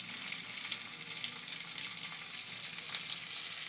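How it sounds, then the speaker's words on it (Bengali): Crushed ginger and green chili fry in melting butter, a continuous soft crackling sizzle held at an even level throughout, close and fairly quiet, with no talk. "বাটারটা মেল্ট হতে হতে আমরা এর মধ্যে ফোড়নে দেব আদা আর কাঁচা লঙ্কা থেতো করাটা।"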